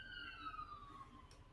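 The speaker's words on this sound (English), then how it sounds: "Just the ambulance. ambulance. Ambulance is on a run." An ambulance siren wails faintly outside in foggy weather, a single falling tone that fades over a low background hum.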